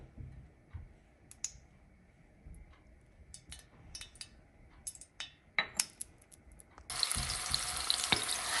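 Oil goes into a pan to fry corned-beef-stuffed dumplings, starting with a few scattered clicks and taps before a loud, steady sizzle takes over near the end.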